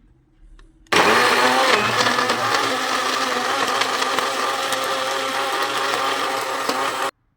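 An electric blender whirs loudly and steadily for about six seconds, blending apple juice with raisins, starting abruptly after a brief quiet moment and cutting off sharply at the end.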